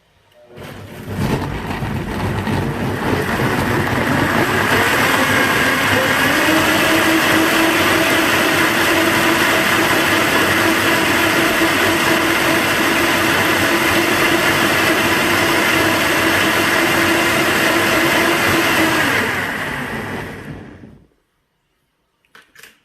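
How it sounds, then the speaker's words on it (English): A powerful countertop blender runs loud and steady on chili ingredients, its motor whirring continuously for about twenty seconds while the speed is adjusted, then it cuts off abruptly. "So I'm going to blend this. I'm going to manually adjust the speed until everything looks broken up."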